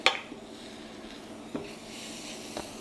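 Spoon scraping and tapping against a pan while flour is stirred into a creamy scalloped potato sauce, a few faint metallic clicks and scrapes spaced out over quiet kitchen background.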